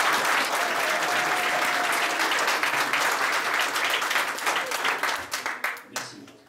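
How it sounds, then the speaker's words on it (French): Warm applause from a concert audience for two gospel soloists at an Advent concert, dense clapping that thins into scattered individual claps and fades out at the end. "applaudissements pour nos deux solistes"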